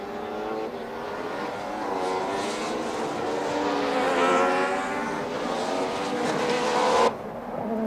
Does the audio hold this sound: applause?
no